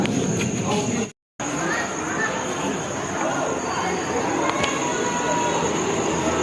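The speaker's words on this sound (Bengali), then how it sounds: "ট্রেন ঢুকছে প্ল্যাটফর্মে।" A train rolls into a station platform at night on a line heading toward Sealdah. A steady, moderately loud rumble carries faint wheel squeal and insect chirps, broken by a brief moment of silence.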